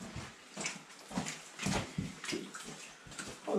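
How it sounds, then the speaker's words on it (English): Water flows and splashes in an old underground mine, an uneven sloshing trickle with intermittent louder surges at close range, with no speech over it. "The water is actually flowing."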